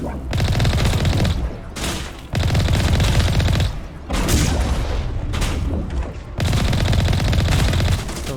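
Sustained bursts of rapid gunfire from Mass Effect Legendary Edition come loud and dense in three or four long volleys separated by brief lulls, with booming impacts mixed in.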